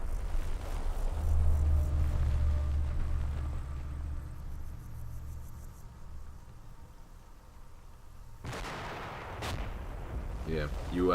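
Gunfire and explosions rumble through a Combat Mission: Black Sea battle between Russian and opposing forces, with heavy low booms early and sharper distant shots later, moderately loud and continuous.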